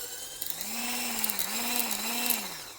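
A Cuisinart Smart Stick variable-speed hand blender with its whisk attachment whirs steadily, its motor pitch rising and dipping in gentle waves, heard fairly quietly up close.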